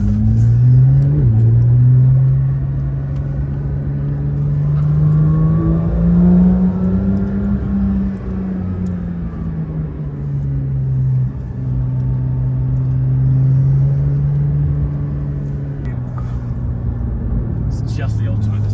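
A Porsche GT3 drives on a track while its brakes are bedded in, its engine a loud, close, steady rumble that rises and falls with acceleration and braking, with people talking over it.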